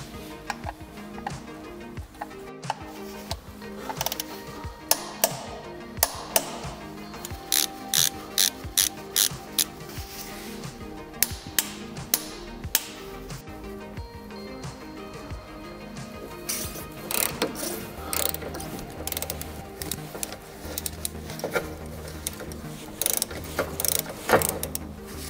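Ratchet wrench clicking as the transmission oil drain plug screws are tightened back in after draining, on a Getrag DCT450 automatic dual-clutch gearbox. Close, repeated bursts of quick ratchet ticks with brief pauses between strokes.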